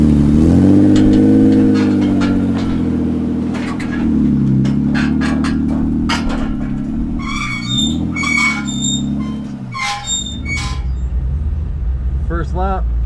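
A drift car's engine revs loudly and continuously while it is loaded onto a trailer, its pitch rising and falling, with short high squeaks toward the end.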